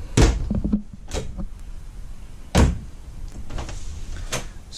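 A bathroom door in a 2020 Jayco Jay Flight SLX 242BHS travel trailer is handled close by: a thump and rattle, rustling movement, then a second firm knock of the door, with soft scraping between.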